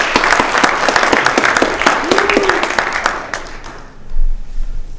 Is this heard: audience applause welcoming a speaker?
yes